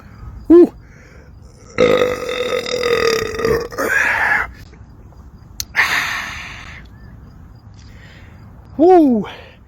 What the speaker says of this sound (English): That is one hot burp, baby.